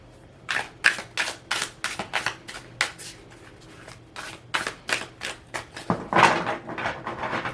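Tarot cards are shuffled by hand, a series of crisp riffling bursts in quick uneven rhythm, close and clear, with brief pauses between runs and no talk.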